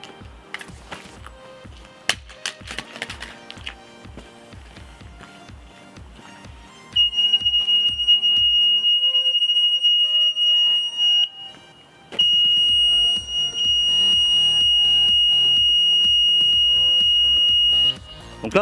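A T238 LED stun flash airsoft grenade sounds its alarm outdoors: after a run of thumps and handling knocks, a loud, steady, piercing electronic beep tone holds for several seconds, breaks off briefly, then resumes just as loud until the end.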